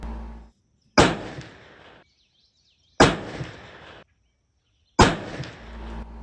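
Three sharp, loud muzzleloader shots fire a 260-grain Extreme Elite HP bullet over four FireStar pellets, spaced about two seconds apart, each a hard crack trailing into a short decaying rumble.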